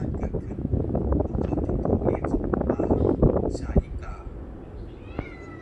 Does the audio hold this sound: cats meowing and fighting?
yes